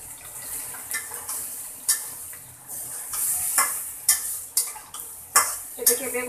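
Brinjal sautéing in a kadai with onion and green chilli, a low steady sizzle broken by repeated sharp scrapes and clinks of a spatula against the pan, close and irregular.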